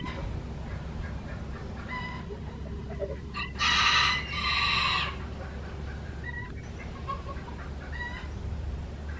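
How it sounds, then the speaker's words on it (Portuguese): Geese honk and cackle in short bursts over a steady background hum, with one louder harsh call in the middle. "Já os gansos aqui."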